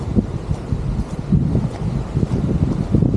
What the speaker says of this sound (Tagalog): Sobrang hangin naman yan.